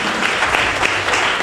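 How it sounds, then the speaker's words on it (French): A congregation claps in a dense, continuous burst of applause during a Methodist church ceremony at a temple, loud and close. "Quand t'applaudis, s'il vous plaît."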